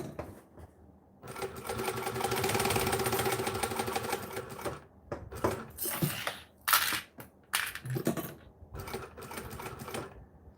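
A sewing machine stitches a cell phone sling, running in a steady fast whir for a few seconds, then in short stop-start bursts with clicks and handling noises, close and alone.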